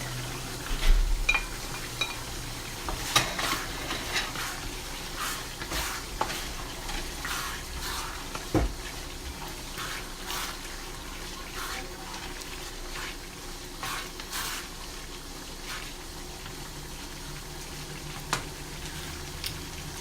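Garlic and chives are stir-fried with cabbage and minced beef in a pan, giving a steady soft sizzle with intermittent scraping stirs and clatter, no voices.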